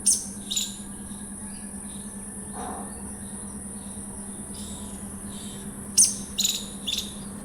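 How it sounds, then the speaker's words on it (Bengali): A few sharp, high chirps from lovebirds at a bird market break through a quiet, steady hum, clustered at the start and again near the end. "এবারে লাভবার্ড পাখি দেখতে পাচ্ছেন"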